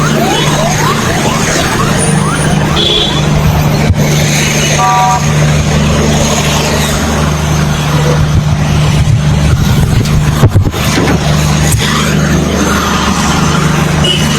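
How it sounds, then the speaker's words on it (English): A police convoy of road vehicles rushes past on a tense street, a loud continuous engine roar with steady low drone and brief horn-like toots, close and sustained throughout. "Convoy passing quickly."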